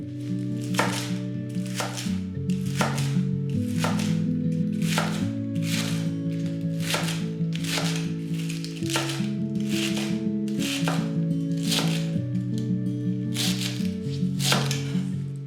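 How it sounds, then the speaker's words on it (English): Knife finely chopping sliced red cabbage on a cutting board, a steady fast run of crisp, evenly spaced chops that continues without pause, close and loud with no voices. "Then chop it finely."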